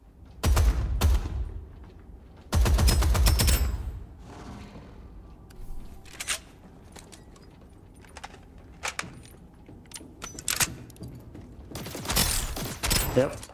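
Gunfire in the video game Starsiege Deadzone: three loud rapid bursts, near the start, around the third second and again at the end, with scattered fainter shots and clicks between them.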